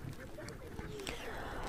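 Ducks being fed in a city in winter give a few faint, short quacks against a low outdoor background hum.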